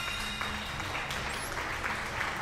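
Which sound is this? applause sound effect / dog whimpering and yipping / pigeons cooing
applause sound effect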